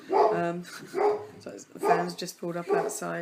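An indoor dog barks repeatedly at a van that has pulled up outside. The sharp, fairly loud barks come in a steady run under a woman's close, continuous talking.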